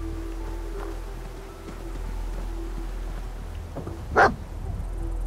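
In the video game Fallout 4, a dog companion lets out a single short bark over a steady ambient game background.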